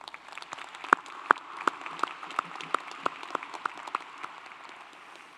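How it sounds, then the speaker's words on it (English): Scattered audience applause at a doctoral commencement, a light patter of clapping from a crowd with a few louder distinct claps standing out in a loose rhythm. "That deserves a round of applause"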